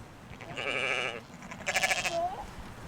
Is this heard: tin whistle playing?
no